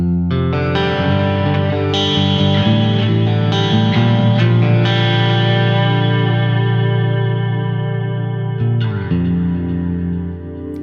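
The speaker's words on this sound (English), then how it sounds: "And yes, there's a reverb and delay, but it's just an effect." Vintage 1964 Fender Stratocaster electric guitar playing rich, sustained chords and notes, washed in heavy reverb and echoing delay, loud and continuous with no voices.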